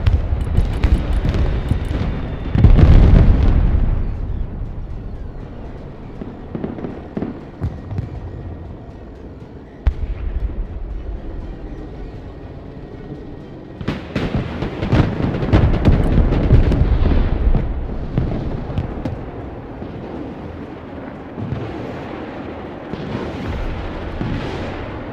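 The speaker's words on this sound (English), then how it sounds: "Since we have time, I might just bring up my cruise missiles" Cruise missile strikes exploding in the strategy game Broken Arrow, a series of heavy booms and rumbling blasts, loudest early on and again in a cluster of crackling explosions midway, fading into lingering rumble.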